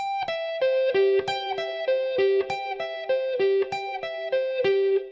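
An electric guitar plays a repeating note pattern, single notes picked evenly in a looping sequence with a slightly gritty, driven tone and no talking.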